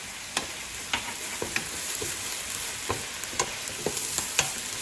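Green chilies fry in hot vegetable oil for Lubia Polo, a soft, even sizzle broken by a scattering of light spoon clicks against the pan.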